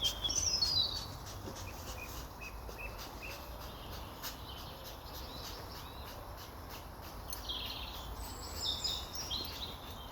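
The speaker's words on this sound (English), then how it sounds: "Listening to the birds singing" Birds singing in woodland, with scattered high chirps and calls over a steady ambient hum; the song is moderately distant and continuous, with a busier burst near the start and again toward the end.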